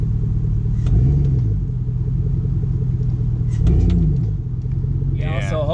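A stock 5.3 LS V8 with an idle problem running in gear produces a steady low rumbling idle with slight rises and dips in speed, close and continuous with no voices heard.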